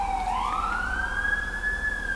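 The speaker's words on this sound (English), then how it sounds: "And then later that day, there are sirens happening outside." An emergency vehicle siren wails outside, a single rising tone sweeping upward and holding high, moderately distant over a steady background hum.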